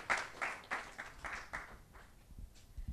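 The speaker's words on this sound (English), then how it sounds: "Can we have a round of applause for Catherine once again?" A small audience gives brief, scattered applause after an artist talk, faint and fading out within a few seconds.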